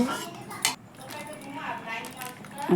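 A spoon stirs fish roe curry with garam masala and potatoes in a pan, making a few sharp metallic clinks and soft scrapes, with a person talking throughout.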